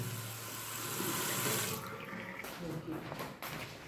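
Water gushing from the outlet of a household water pump, a loud steady rush that thins and becomes more uneven partway through.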